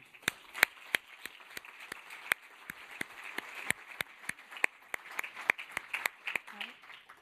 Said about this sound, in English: please give a warm applause to Gael Thalmann